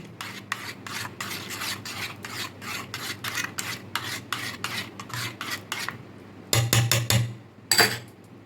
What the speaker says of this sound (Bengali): আমি আমের পাল্পটা মিশিয়ে দিচ্ছি ভালো করে এর মধ্যে মিশিয়ে নিচ্ছি